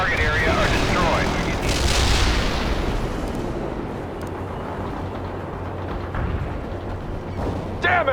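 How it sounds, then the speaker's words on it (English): Artillery barrage in the World in Conflict war game, a continuous heavy rumble of distant booms and explosions rolling under radio chatter, with a brief voice near the start and end. "Artillery firing."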